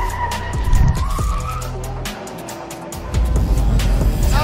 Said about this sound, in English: Wow, the tires are literally smoking.